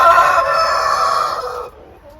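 A rooster crows loudly and close by, one long drawn-out call that cuts off abruptly near the end.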